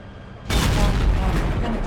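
A tank cannon fires at an E-100 tank in a video game, a sudden loud boom that cuts in abruptly and rolls on as a heavy, sustained rumble.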